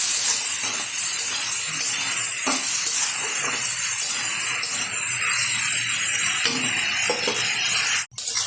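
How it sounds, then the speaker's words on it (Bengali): Bottle gourd stirred in hot oil for a lentil dish makes a steady hissing sizzle with occasional soft scrapes, close and fairly loud, ending in a brief sharp clatter near the end. "ভালোভাবে তেলের সাথে নাড়িয়ে নেব লাউটা।"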